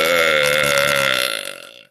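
A woman's long, loud, resonant burp, drawn out for nearly two seconds and fading off at the end, close to the mic with no talking.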